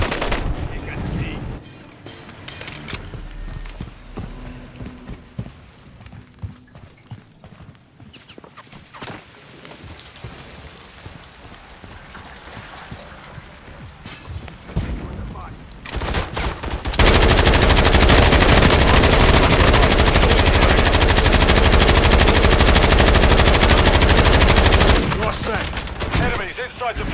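Automatic gunfire in the Call of Duty: Modern Warfare III multiplayer video game, with scattered shots at first, then a loud sustained burst of rapid fire.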